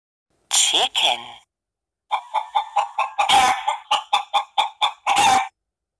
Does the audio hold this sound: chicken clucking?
yes